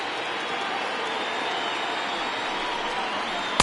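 Steady crowd noise from a stadium in the baseball video game MLB The Show 20, Cubs versus Diamondbacks, a broad even roar of a large crowd on its feet, moderately loud and continuous with no talking.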